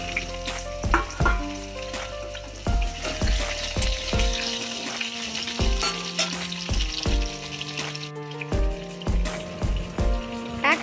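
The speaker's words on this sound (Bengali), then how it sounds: "1 কেজি আলু ডুমো ডুমো করে কেটে নিয়েছিলাম, সেটা ধুয়ে নিয়ে ভাজতে দিয়ে দিচ্ছি।" Cubed potatoes, washed and dropped into hot oil in a pan, fry with a busy crackling sizzle, punctuated by stirring clinks and scrapes close by, with no talking.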